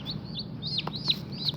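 A young rooster chick, one of a brood of chicks, gives several short, high peeping calls in a quick irregular series, fairly close and clear over a low background hum.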